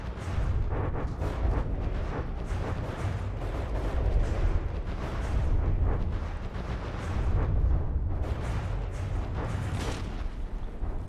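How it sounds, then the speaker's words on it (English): Heavy booming ship cannon fire and explosions in a video game rumble continuously, dense and loud, like a naval battle raging with overlapping blasts. "Is that the stern cannon still firing?"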